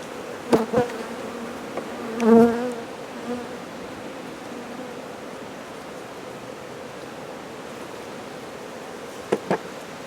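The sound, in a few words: honey bees buzzing around hive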